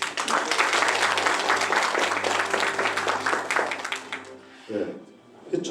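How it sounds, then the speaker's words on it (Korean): Forum audience clapping for a member of parliament being introduced at a Yangju community forum, loud applause mixed with an amplified voice, fading out near the end as speech resumes. "한 분 한 분 소개할 때 큰 박수로 부탁드립니다"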